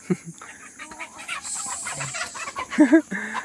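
Chickens cluck and squawk close by in short scattered bursts, with a few louder agitated calls near the end over faint farmyard background noise.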